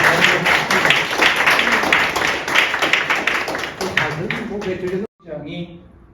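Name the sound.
audience applause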